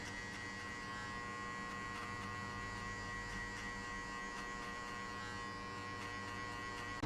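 Electric hair clipper buzzing steadily and close during a mid taper fade haircut, a continuous even drone with no pauses and no talk.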